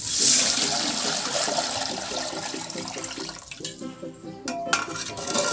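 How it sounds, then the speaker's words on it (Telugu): Water pours into a pot of fried rice ingredients that have been browned golden, making a steady rushing splash and gurgle throughout, with a few clinks of a utensil against the pot near the end. "ఇలా గోల్డెన్ కలర్లోకి వచ్చాక వాటర్ అయితే పోసేసుకోవాలి"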